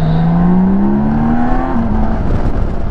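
A BMW K1600B Midnight Edition cruiser motorcycle engine revs up with a steadily rising pitch, briefly dips as it shifts, then continues at a loud, close, continuous drone with no talking.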